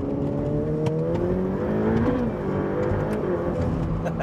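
A Ferrari F8 Tributo with a 7-speed dual-clutch gearbox accelerates, its engine droning steadily and loudly from inside the cabin with a slight rise in pitch midway, no voices over it.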